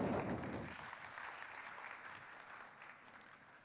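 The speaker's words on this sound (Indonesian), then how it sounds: "Boleh minta tepuk tangannya?" An audience claps at a phone launch event for the OPPO Reno13 series. The applause starts loud and fades gradually over a few seconds, with no talking.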